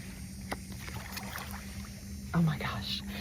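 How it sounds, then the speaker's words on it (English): Boats on a lake make a distant, steady low drone, with a soft voice speaking quietly over it and a brief splash-like bump near the end. "Hopefully the boats aren't too loud."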